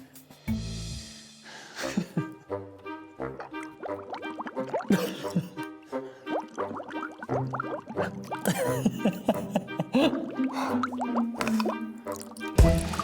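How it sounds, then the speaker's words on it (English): Apples bobbing in a tub of water during a Halloween party game, with drips, plops and splashes rising as someone ducks in, mixed with musical tones and a loud burst near the end. "you can't really play bobbing for apples without getting a little bit wet"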